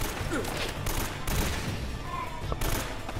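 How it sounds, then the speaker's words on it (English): Enemy gunfire in the video game Uncharted: Drake's Fortune, a chaotic fusillade of overlapping rifle shots and bursts crackling loudly throughout, with faint voices and whizzing sounds mixed in. "There's someone shooting at me."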